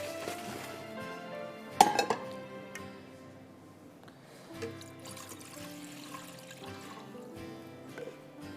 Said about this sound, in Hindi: उसी में ये पानी डाल दूं।